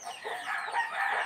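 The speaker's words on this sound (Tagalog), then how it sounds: "Ang ingay ng mga manok." Chickens clucking and crowing nearby, a continuous noisy chorus of harsh calls for a little over a second with no speech.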